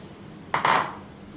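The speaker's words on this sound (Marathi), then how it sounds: "तर एका ताटात मी काढते म्हणजे मिक्स करायला बरं होईल" A single close clink and short clatter of a plate as a gram flour and rice flour spice mix for crispy okra fry is set out, then quiet.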